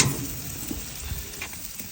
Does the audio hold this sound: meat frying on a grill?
yes